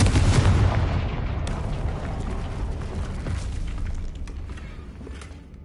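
A blasting-spell explosion in a wizarding video game, a heavy booming blast that rolls on as a dense rumbling, crackling roar and slowly fades over several seconds, loud and close with no talk.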